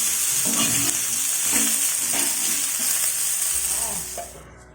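Kerala-style fish fries in a pan, giving a steady close sizzle with bursts of stirring and scraping, then the frying fades near the end.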